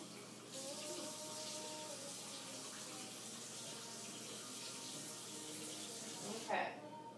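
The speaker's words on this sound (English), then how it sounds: "Just make sure you rinse it in cold water" Tap water runs steadily for several seconds as tie-dyed fabric is rinsed under cold water, a constant close hiss that cuts off near the end with a brief splash.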